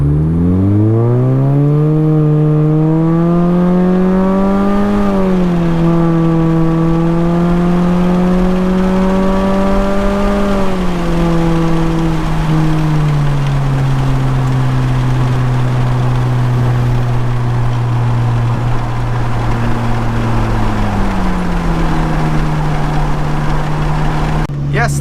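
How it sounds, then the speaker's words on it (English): A 2006 Mini Cooper non-S R50 with a muffler-delete exhaust pulls at wide open throttle, its loud raspy engine note climbing steadily, easing briefly and rising again through sustained acceleration. "that is wide open throttle in a 2006 Mini Cooper non-S R50 generation"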